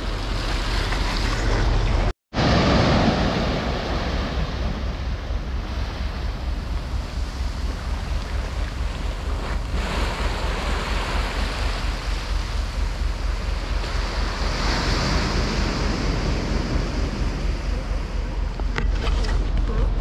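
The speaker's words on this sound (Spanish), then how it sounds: "llegamos a lo que es la playa del Pelícano" Surf rolls steadily onto the beach at Playa Pelícanos, a continuous loud wash with gusty wind buffeting the microphone throughout and one brief dropout near the start.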